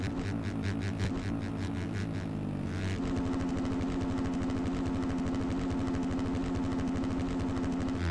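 A 450 motocross bike in MX Bikes runs loud and close, its engine note buzzing and shifting pitch before settling into a steady, raspy high-revving drone with a rapid pulsing rhythm, with no talking.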